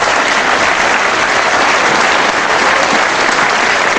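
Loud, steady applause from a crowd at a wrestling bout between Caswell Martin and Dave Bond, a dense wash of clapping that carries unbroken from start to finish with no voices standing out.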